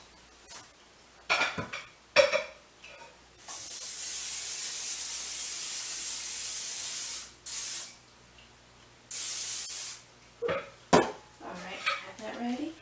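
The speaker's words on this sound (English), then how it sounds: "I'm going to put some oil on" Oil sprayed from a can onto a baking stone in a home kitchen before making buttermilk biscuits: two long, loud hissing bursts, one about four seconds and a shorter one after, with brief clatter and faint talk around them.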